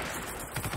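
Gunfire in the World War II shooter Call of Duty 2 comes as a brief, faint burst of rapid shots over game ambience.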